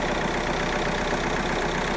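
A steady, even diesel engine idle from an Audi A4 B8 2.0 TDI quattro rumbles continuously, a low droning hum with a faint regular knock, close and constant with no voices.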